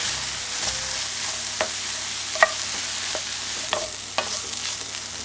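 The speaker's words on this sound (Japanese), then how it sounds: "最初火加減は中火で炒めていきます" Vegetables including green peppers stir-fry over medium heat with a constant soft sizzle, broken by occasional light clicks and scrapes of a utensil in the pan, close and without voices.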